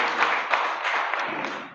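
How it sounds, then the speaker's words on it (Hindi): Enthusiastic applause from an audience at a youth parliament press conference on the Indian Constitution, a brief steady burst of clapping with no voices over it. "अगर आप सब मेरे इस नाम को समर्थन देते हैं तो एक बार जोरदार तालियों से समर्थन"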